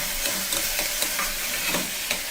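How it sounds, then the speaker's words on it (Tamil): Onions sauté in a hot pan with a steady bright sizzle and hiss, close and continuous, with light rhythmic stirring scrapes recurring through it. "நல்லா வெங்காயம் வதங்கட்டும்"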